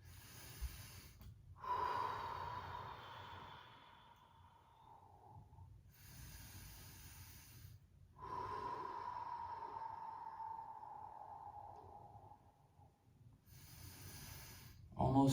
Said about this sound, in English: Breathe with me, nice and easy.